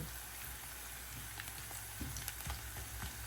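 Guyanese dhal bubbling and sizzling in a pot, a faint continuous crackling hiss with small pops, close by and with no talk over it.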